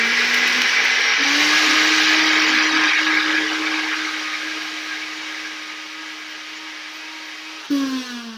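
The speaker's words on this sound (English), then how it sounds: "Looks like it needs to be blended a little more. Remember, it's got those cashews in it." A blender whirs loudly through a pumpkin spice smoothie thick with cashews, its steady motor drone easing slightly in pitch and volume before a short jolt near the end as the speed shifts.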